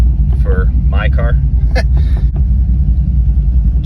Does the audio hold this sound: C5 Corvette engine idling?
yes